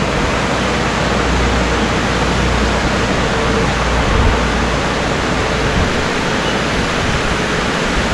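A river flows through a dense forest in the White Mountains of New Hampshire, making a loud, steady rushing roar that fills the scene evenly from start to finish, with no one speaking.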